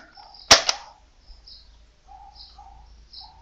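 A sharp pop of a Nerf Vortex Praxis blaster firing a dart, followed by a quick second snap, with birds chirping faintly in the background.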